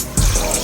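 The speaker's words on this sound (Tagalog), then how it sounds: "Tayo ng tubig." Water poured into a pan for pancit bato with budget sauce and a bouillon cube, starting suddenly as a close, steady splashing pour that runs on to the end.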